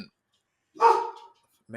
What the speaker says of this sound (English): barking over here. Oh, hound dog.